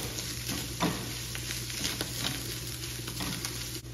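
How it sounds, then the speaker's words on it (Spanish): Garlic and onion stewing gently in a pan, a steady soft sizzle and crackle with faint stirring clicks, continuous and close, no talking over it. "lo dejamos aquí que se guise un poquito con el ajo y la cebolla"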